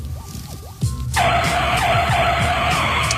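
Car tires skid and screech under hard braking, a sudden loud sustained squeal that starts abruptly and holds steady to the end, over a low engine rumble.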